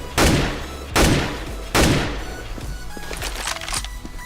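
An AK rifle fires in the video game CS:GO: three loud, sharp shots about a second apart, followed by quieter clinks and game sounds.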